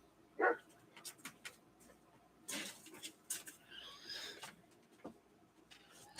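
Dog barking in short, scattered bursts, fairly faint and a bit distant, among quiet background noise with no clear talk.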